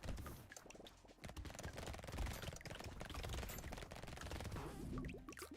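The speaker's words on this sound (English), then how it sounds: "Look at the SMGs go." Rapid SMG gunfire from the video game Brotato crackles in dense continuous bursts, busy and sustained with overlapping shot effects, played faintly.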